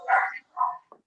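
A dog barks at a doorbell: two loud, close, rough barks followed by a short yip, with no talk.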